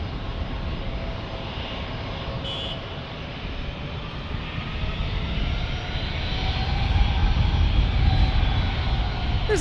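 A Delta Airbus A321 airliner roars past at San Diego airport, its engines a broad, steady rumble that swells louder toward the end.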